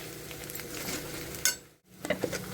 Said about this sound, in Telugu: చూడండి ఇంకా ఫ్రై కాలేదు ఒక ఎంత అంటే ఒక ఫైవ్ మినిట్స్ అయింది ఫ్రై చేయబట్టి